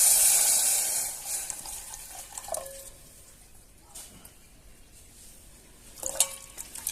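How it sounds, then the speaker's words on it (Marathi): Warm water mixed with turmeric poured into a pan while cooking a village-style green chickpea leaf dish, a short, soft splash at the start that fades into quiet with a few faint clinks. "आता आपण इथे ही पाणी गरम पाणी करून घेतलेलं आहे"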